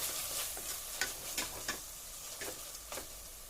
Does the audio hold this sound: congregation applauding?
no